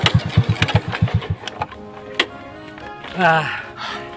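A motorcycle engine sputters in rapid, regular pulses, then drops away as a voice speaks and the engine revs briefly.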